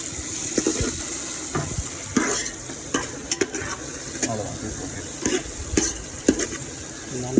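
Chillies and crushed spices fry in oil in a pot for Thoothukudi-style mutton biryani, a continuous close sizzle broken by repeated sharp stirring clinks and scrapes, with no voices.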